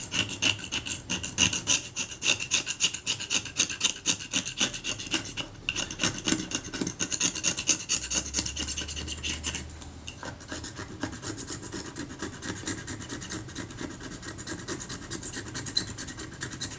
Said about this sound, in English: can I scrape that crap off?